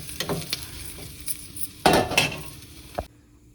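Onions and green chillies fry in a pan for a chikudu bean fry curry, with a soft sizzle beneath intermittent scraping stirs and clinks of a utensil against the pan, a louder burst of stirring midway before it cuts to near silence.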